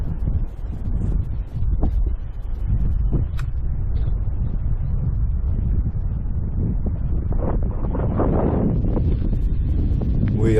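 Strong wind buffets a microphone while cycling out of Inverness over the high bridge above the Moray Firth, a loud, steady roar that continues throughout.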